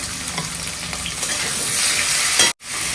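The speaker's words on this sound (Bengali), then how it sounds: "আলু একটুখানি ভেজে নিয়ে দিচ্ছি" Potatoes fry in a pan with a loud, close sizzle and scraping stirs, then cut out abruptly for a split second before the hiss resumes.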